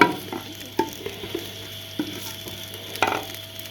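Onions frying in ghee, a soft low hiss with occasional clinks and scrapes of a spoon, quiet and close, no voices.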